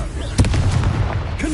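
A Confringo explosive spell blasts in Hogwarts Legacy, giving a loud, close burst followed by a short rumbling tail, with a few smaller pops around it.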